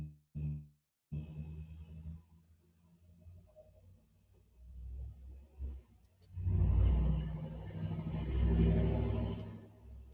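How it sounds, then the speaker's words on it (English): A diesel truck engine rumbles at night, a low, deep, distant drone that swells loudly after a quieter stretch, with a few short clicks near the start. "That is the diesel truck, I believe, in my humble opinion, that we heard at Linda Lane"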